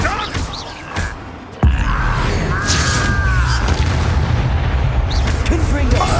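A sudden heavy boom of the Confringo fire spell exploding in Hogwarts Legacy hits close and loud, followed by a rumbling, crackling tail, with speech and spell sounds around it.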